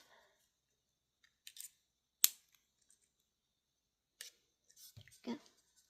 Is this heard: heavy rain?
no